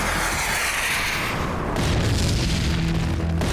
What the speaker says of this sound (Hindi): अरे ये क्या, इतना बड़ा धमाका?